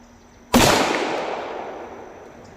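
A single close, loud pistol shot from a Tisas 1911A1 Service firing Blazer Brass ammunition at a shooting range, with a sharp crack followed by a long, fading echo.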